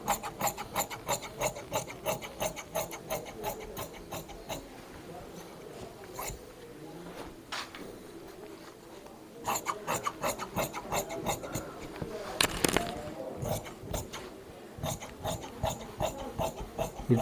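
Scissors cut fabric for the front of men's trousers with repeated crisp snips and rasping strokes, close and rhythmic, pausing briefly between runs of cuts.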